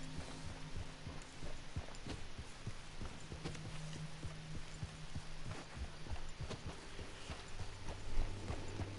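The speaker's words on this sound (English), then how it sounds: "Like, this horse moves itself." Horse hooves clip-clopping in Red Dead Redemption 2, a steady walking rhythm of soft repeated thuds over game ambience and low background tones, moderately quiet throughout.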